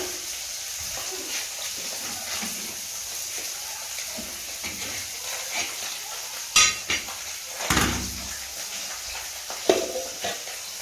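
Eggplant pieces frying in oil in a wok give a low background sizzle, with a spatula scraping and clanking against the metal in several sharp knocks, the loudest near the end.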